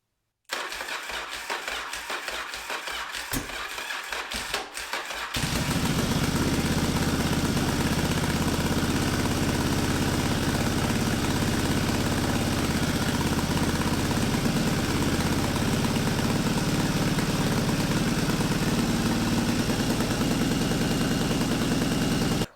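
A Yamaha Virago 920 motorcycle with a 2-into-1 manifold and a Mikuni VM30 carburetor cranks briefly with choke on, then catches and settles into a loud, steady, close idle that runs uninterrupted to the end.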